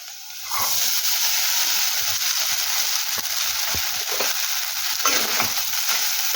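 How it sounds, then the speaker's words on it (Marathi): Green chillies sauté in a pan for sabudana khichdi: after a quiet start, a steady hissing sizzle sets in with scattered scrapes and taps from stirring, and no voices are heard. "हिरवी मिरची आपली छान परतून घ्यायची आहे।"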